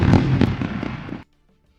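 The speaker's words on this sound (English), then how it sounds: "Oh my gosh, we're gonna run the fireworks, guys." A fireworks sound effect plays loudly as dense, overlapping crackles and booms, then stops abruptly into near silence.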